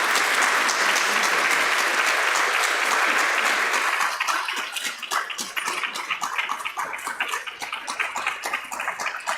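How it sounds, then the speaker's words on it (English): Audience applause for guests being welcomed at a community panel event, a dense, steady clapping that thins into scattered individual claps after a few seconds. "So let's give a round of applause to our guests and have them join us."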